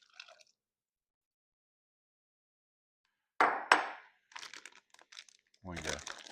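Marinade poured over meat in a plastic bag for carne asada: a few wet crinkling, squishing bursts of bag handling and liquid, close and moderately loud after a silent stretch, with brief bits of talk.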